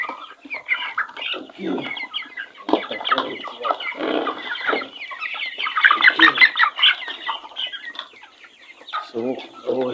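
Broiler chickens about four weeks old, kept in a pen with other meat birds, cluck and chatter continuously up close, a busy overlapping flock sound with a brief spoken word partway through.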